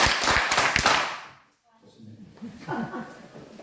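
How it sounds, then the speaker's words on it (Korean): A congregation at a church Bible seminar claps together in unison, a short run of sharp, closely spaced claps, followed by a pause and then someone speaking. "박수 4번 시작."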